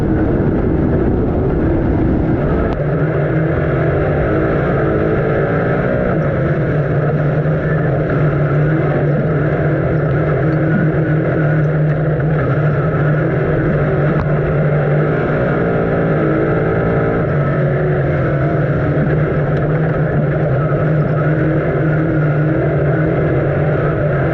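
Dirt late model race cars roar around Eldora Speedway in a Group B feature, a loud, continuous engine drone that swells and fades as the pack passes, with crowd and track ambience underneath.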